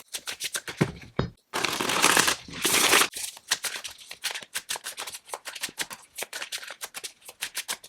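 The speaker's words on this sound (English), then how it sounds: "I don't really struggle to riffle shuffle it" A deck of tarot cards on fairly stiff cardstock is riffle shuffled close up, with rapid fluttering bursts of card edges and a dense rippling cascade, repeated several times in quick rhythmic flicks.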